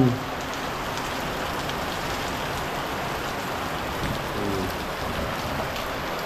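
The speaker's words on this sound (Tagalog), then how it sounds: "napakalakas po talaga ng ulan" Heavy rain pours down steadily, a dense, continuous hiss of drops drumming on surfaces with no pauses, close and loud throughout.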